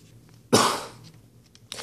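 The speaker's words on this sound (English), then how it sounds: "trying to hold back a cough." A single sharp cough bursts out close to the mic and trails off, followed a moment later by a smaller second cough catch, with quiet in between.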